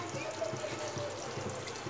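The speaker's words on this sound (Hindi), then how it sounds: "अब हम इसमें थोड़ा सा पानी ऐड करेंगे" Water poured into fried masala in a pot while cooking UP-style chicken biryani, a steady hissing pour that runs throughout the short moment at close range.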